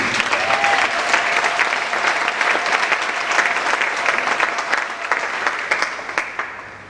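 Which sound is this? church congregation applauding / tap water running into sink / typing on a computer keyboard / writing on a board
church congregation applauding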